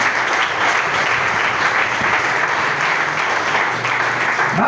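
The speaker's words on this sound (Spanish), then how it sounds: "Aplauso fuerte" A church congregation claps loudly and steadily during a sermon. The applause is dense and continuous, with no pauses from start to finish.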